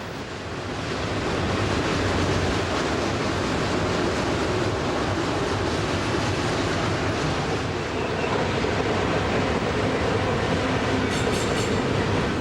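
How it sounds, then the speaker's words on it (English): A BNSF intermodal freight train hauling containers from foreign and domestic companies, including Mitsui and J.B. Hunt, rolls past in Cajon Pass with a loud, steady rumble and rail clatter that swells early and holds. "This train has a combination of containers from foreign and domestic companies"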